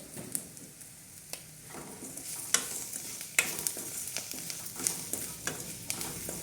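A spoon stirs a salted mixture frying in a pan while chickpeas are made. A steady soft sizzle runs under scattered scrapes and taps from the utensil, moderately loud and close.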